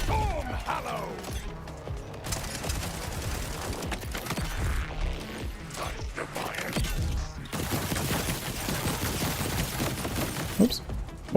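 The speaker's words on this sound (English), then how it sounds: "So you see the globs stick to the enemy and then they explode when you reload." Sticky globs fired from a Maliwan sniper rifle in the Borderlands video game explode in rapid bursts amid gunfire and mechanical game effects, loud and dense throughout.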